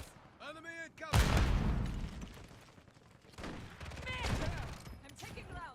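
Bursts of gunfire ring out in the Modern Warfare Zombies shooter, loud clusters of shots with a pause between them, while radio-style voices talk over the action.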